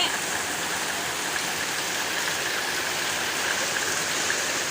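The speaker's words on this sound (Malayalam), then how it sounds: "നല്ല പൊള്ളി മഴയാണ്." Heavy rain pours down in a dense, even hiss that holds steady from start to finish, loud and close with no voices over it.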